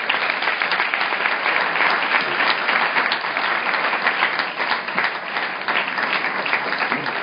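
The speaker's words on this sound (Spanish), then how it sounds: "lo recibimos con un fuerte aplauso" A conference audience gives a strong, sustained round of applause welcoming a speaker, thick continuous clapping that stays loud and even throughout with no voices on top.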